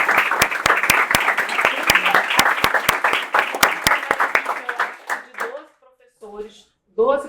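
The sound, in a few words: applause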